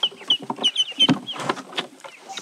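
Farm fowl, presumably ducks, making short quacking and clucking calls in a quick irregular series, close by with a few louder bursts.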